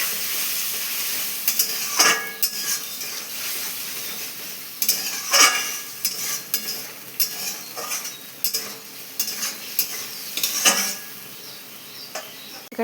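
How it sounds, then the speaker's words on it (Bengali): A spice paste with salt and turmeric sizzles in a pan while a spoon scrapes and stirs it, giving intermittent sharp clatters over a soft steady frying hiss, close and without speech. "হলুদ দিয়ে মশলাটাকে আমি ভালোভাবে কষিয়ে নিচ্ছি।"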